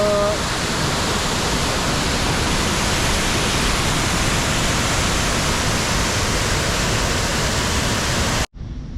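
A waterfall roars as a loud, dense, unbroken rush of falling water heard up close, steady for the whole stretch before a brief cutoff near the end.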